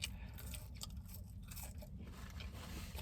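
Biting and chewing a McDonald's McCrispy chicken sandwich with 2X spicy sauce: close, steady crunchy mastication with soft crisp bites running through the whole stretch, no talking.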